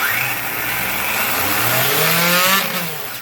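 Electric motor of a hobby RC drift car revving at partial throttle on a bench, a close, loud whining rise that climbs steadily in pitch, holds, then drops off.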